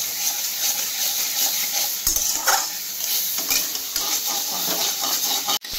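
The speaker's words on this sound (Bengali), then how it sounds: "পুরো কষাতে হবে মশলাটাকে। যত কষাবো তরকারির স্বাদ আরও বেড়ে উঠবে।" Spice masala being stir-fried in oil in a pan for a vegetarian dhokar dalna, a continuous close sizzle with intermittent spoon stirs and scrapes against the pan and a sharp clink near the end.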